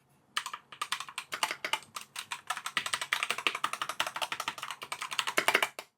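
Rapid, crisp clacking of a Machenike KT68 Pro mechanical keyboard being typed on, steady bursts of keystrokes close up with no talking.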